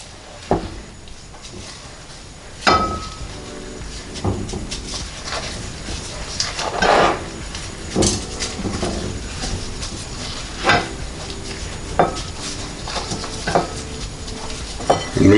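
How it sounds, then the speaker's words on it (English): Boneless chicken breasts are pressed and turned by hand in breading, making soft scraping and rustling sounds mixed with light clinks against a dish at an uneven pace, close by and without talk. "I'm going to get it good and coat it with the breading."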